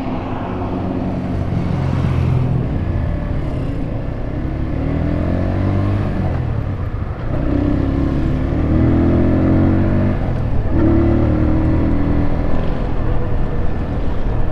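A 152 cc cafe racer motorcycle is ridden through its gears, its engine note rising in pitch with each pull and then dropping at the shifts, loud and close from on board, with a steady road rush underneath.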